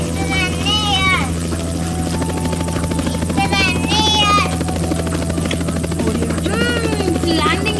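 Helicopter rotor thrum and engine whine hold steady and loud throughout as the aircraft comes in to land, with excited children's voices calling out over it.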